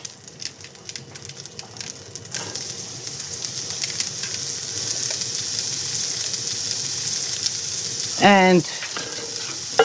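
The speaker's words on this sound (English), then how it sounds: "I want the pancetta to release its fats, the garlic to just get cooked a bit." Pancetta, garlic and pestata fry with lamb in a pan for a lamb and pepper ragù, a steady crackling sizzle that grows denser and louder, with a brief stirring scrape near the end and a voice speaking a word.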